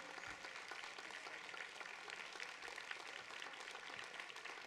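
At a housing innovation awards ceremony, an audience applauds in a continuous patter of many hands, evenly sustained but faint and distant, with no clear voices over it.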